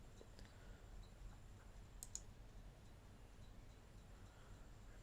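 A computer mouse double-clicks to open a file on a desktop, two quick faint clicks close together against a quiet room hiss, with a few other soft ticks around them.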